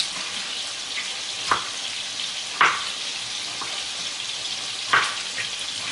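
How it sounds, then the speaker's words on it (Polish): Chopped tomatoes, carrot and cabbage go into a hot frying pot, giving a steady sizzle and hiss with a few sharp clatters and stirring bursts spaced across the moment, no talk. "Dołożymy pokrojone pomidory, marchewkę i kapustę."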